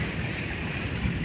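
Service boats on the open sea nearby, heard as a steady low motor drone mixed with wind buffeting and wave wash, fairly loud and continuous for a brief moment.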